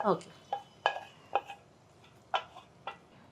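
Roasted ingredients for rava laddu being scooped from a pan into a large vessel, a series of separate scraping, clattering knocks of metal utensil on cookware at irregular intervals, moderately close with quiet room background.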